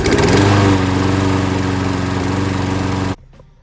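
A repaired lawn mower engine runs loud and close with a steady, buzzy drone, then cuts off abruptly near the end, leaving quiet.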